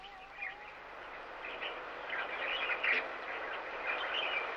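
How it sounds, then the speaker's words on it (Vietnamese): Birds calling among bushes and grass, soft chirps and twitters scattered over a hazy outdoor wash, fairly faint and distant, growing a little busier toward the end. "Bạn của người, những tiếng chim trong lùm cây, trên vạt cỏ."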